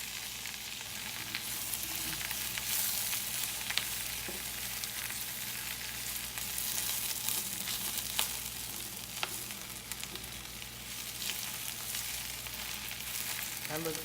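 Spinach, onions and sun-dried tomatoes sauté in olive oil in a pan, giving a steady soft sizzle with occasional light scrapes and taps of stirring throughout.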